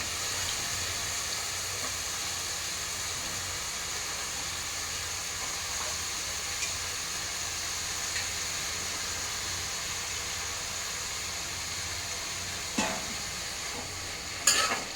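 Chopped eggplant frying in a pan for vangibath, a steady, even hiss of sizzling oil held close throughout, with a couple of faint clinks near the end and no voices.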